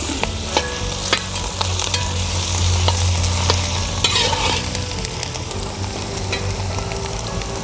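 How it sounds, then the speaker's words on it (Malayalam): Chicken stir-fried with ginger garlic paste for Kerala-style chicken perattu gives a close, loud, steady sizzle, broken by regular scraping and clicking strokes of a spoon against the pan. "ഇഞ്ചിയും വെളുത്തുള്ളിയും കൂടെ അരച്ച പേസ്റ്റാണ് അതുകൂടെ ചേർത്ത് വരട്ടിയെടുക്കും"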